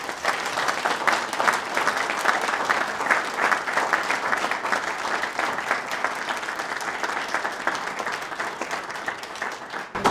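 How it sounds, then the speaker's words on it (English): Steady, even applause from a dinner audience at a brain research foundation golf outing event, honoring Faye and the foundation team; many hands clapping continuously for about ten seconds at moderate distance. "I would like a round of applause for Faye and the IES Foundation team"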